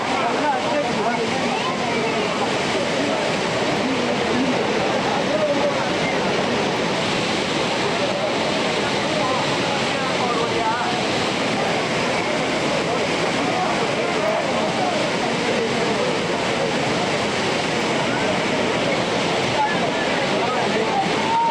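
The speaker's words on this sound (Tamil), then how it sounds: "தென்காசி குற்றாலம் மெயின் அருவியில் வெள்ளப்பெருக்கு தணிந்தது." Courtallam main waterfall in Tenkasi, its flooding now easing, roars as a steady, dense, loud rush of falling water that carries on without pause throughout.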